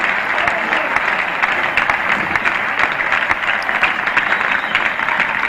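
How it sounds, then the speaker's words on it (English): Sustained applause from a Test match cricket crowd greeting a boundary four, England against Pakistan in 1971, a steady even patter of many hands clapping throughout with no voices on top. "And that was a stroke that Asif applauded."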